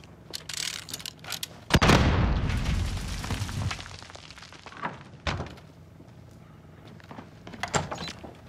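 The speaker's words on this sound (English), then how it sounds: "Grenade out!" A grenade goes off in the Warzone game, a loud booming blast followed by a rumbling decay, with a few sharper thuds and clatter before and after.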